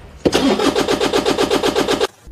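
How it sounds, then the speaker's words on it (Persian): A car's starter motor cranks with a rapid, even rhythmic chugging for under two seconds before cutting off abruptly, loud and close with no talk. "قطعا بارها صدای استارت موتور رو شنیدی."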